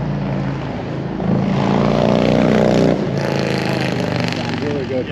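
A Harley-Davidson touring motorcycle engine revs up, climbing into a louder sustained roar before dropping back to a steady idle, with voices talking over it.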